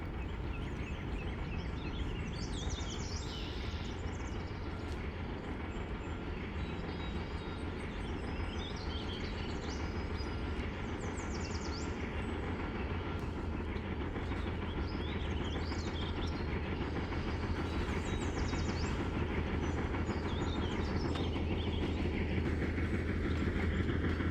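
An auto-train rumbles steadily on the rails in early morning fog, a continuous loud roll with clicking wheels and tonal horn-like wails drifting in from afar.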